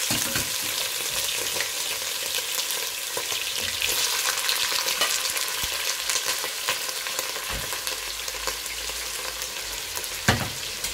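Beef and onions frying in a pan, a steady dense sizzle filling the whole stretch, with faint stirring scrapes and one sharper clack near the end, no voices.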